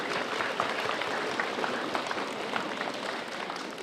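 An audience at a school last-bell ceremony claps steadily, a soft, dense patter of many hands heard from a distance throughout.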